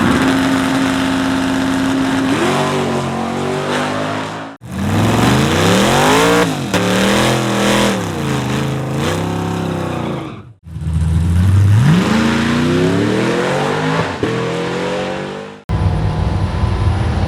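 Loud cars at a drag strip during Camaro Fest, engines revving hard and roaring up through gears in repeated passes, each pass rising and surging before cutting off, close and powerful.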